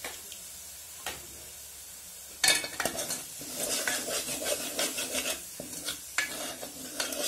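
A spatula stirs ambat chuka leafy vegetable bhaji in a pan, with irregular scraping and clinking strokes over a soft sizzle, close and busy after a quiet start.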